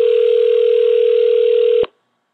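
A steady telephone dial tone holds at one even pitch as a call is placed, loud and alone for nearly two seconds before cutting off abruptly into silence.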